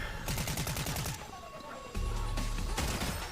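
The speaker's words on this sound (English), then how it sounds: "we've found ourselves a pump and dump, so I kind of want to give it a go" Gunfire in the Fortnite video game, with a pump shotgun in use, comes as rapid clattering bursts of shots, some in quick repeated volleys, with game sounds behind them.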